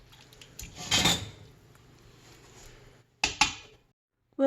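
A metal lid clanks onto a pot of Cajun shrimp boil on the stovetop, with one sharp rattling clatter, a quieter settling clink a couple of seconds later and a final knock.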